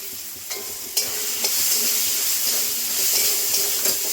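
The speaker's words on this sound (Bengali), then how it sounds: "মশলাগুলো ভেজে নিয়েছি, দেখুন তেল বেরিয়ে গেছে সাইড থেকে। দিয়ে দিচ্ছি হলুদ" Spices frying in oil with turmeric being stirred in for a Bengali bottle gourd (lau) dish: a steady, close, loud sizzle with a few sharp stirring scrapes and clicks throughout, no talking.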